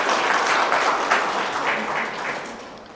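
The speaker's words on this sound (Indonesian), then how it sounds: "Berikan tepuk tangan kepada pemirsa kita." Audience applause at a regional PKS party assembly in West Java, Indonesia: a broad wash of clapping from a seated crowd that holds steady and then slowly fades toward the end.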